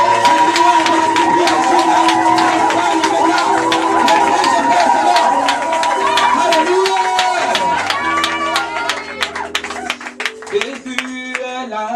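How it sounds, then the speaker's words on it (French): A church congregation cheers and shouts for Jesus over music with sharp percussive hits. The crowd noise is loud and continuous, then thins toward the end as tonal music takes over. "Est-ce qu'on peut acclamer fortement Jésus?"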